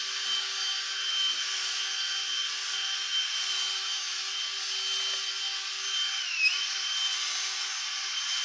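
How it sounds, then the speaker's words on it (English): A power tool drones steadily and continuously while a pumpkin is carved, a constant high whine with no talking. "Power tools have been involved."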